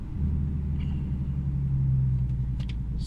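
A Ford Mustang 3.7 V6 with a Borla ATAK exhaust, shorty headers, H-pipe and cat delete, accelerating in second gear with the windows up, giving a loud, deep, steady droning rumble heard from inside the cabin.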